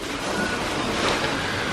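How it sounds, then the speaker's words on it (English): At an amusement park power station, a water wheel dumps water down, giving a continuous broad rushing and splashing roar that stays fairly loud and steady throughout, with no speech. "Does this, then dumps the water down here, and the water goes down to that Huck Finn and Tom Sawyer shooting thing."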